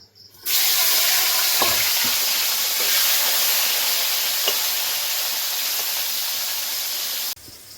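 Bitter gourds fry in hot oil in a pan for Bengali shukto, a steady, loud hiss and sizzle that starts suddenly and holds evenly, with a few faint clicks of a utensil, then cuts off at the end.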